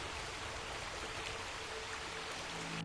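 Dark stream flowing across a misty tepui summit, a steady, close broadband rush of running water that fills the whole stretch without pause or voices.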